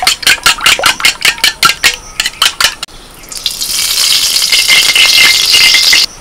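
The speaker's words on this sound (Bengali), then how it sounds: "ডিমটা ভালো করে গুলে নেব।" Four eggs with salt and pepper are whisked in a bowl, giving a quick run of rhythmic clinking strokes that gives way to a steady, bright hiss.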